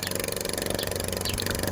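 A farm engine runs steadily right after starting, a continuous mid-pitched rumble with a rapid regular pulse throughout, close and fairly loud with no talk.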